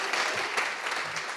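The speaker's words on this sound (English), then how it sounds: "Could you clap now?" Live studio audience at a taping of an arts talk show in a gallery, clapping continuously in a steady, fairly loud wash of many hands, with no speech over it.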